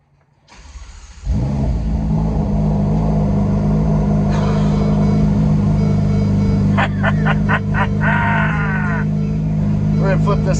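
A Ferrari F8 supercar engine starts up and settles into a loud, sustained idle and rev, with a few sharp throttle blips near the end and a voice talking over it.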